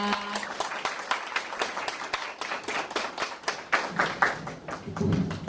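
A lecture audience claps to welcome a professor to the stage for the first session of a humanities talk on generative AI, with distinct, fairly sparse hand claps in an uneven rhythm, close and moderately loud.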